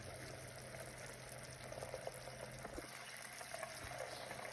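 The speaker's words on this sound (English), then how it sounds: "even with a very low heat, we still have a very vigorous boiling action" Butter bubbling in a pan over very low heat while being clarified into ghee, with its milk solids settling to the bottom; a steady, faint crackling simmer with occasional small pops runs throughout, and no one speaks.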